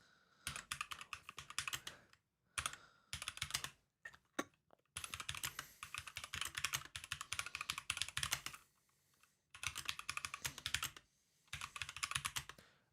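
Rapid typing on a computer keyboard in several bursts of clustered keystrokes separated by short pauses, close and fairly quiet, with no talking.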